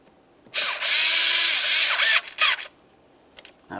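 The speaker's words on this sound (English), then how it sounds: "We'll start in both of these mounting bolts. Once they're both started, we can snug them up." A power drill drives in the idle air control valve mounting bolts on a 2000–2005 Buick LeSabre, with one long close whir, a short second burst, then a few faint clicks.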